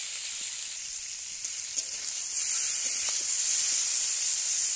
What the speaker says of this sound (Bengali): ভেজে নেব চিংড়ি মাছগুলো।